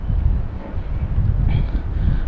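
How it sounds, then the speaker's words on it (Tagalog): Strong wind gusts across a fishing net out at sea, a steady broadband rushing roar buffeting the microphone, loud and continuous with no voices. "Hinahangin talaga yung lambat natin."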